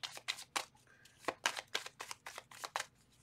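Rapid riffling and slapping of tarot cards being shuffled, a series of crisp bursts in quick succession with short pauses, close and clear with no talking.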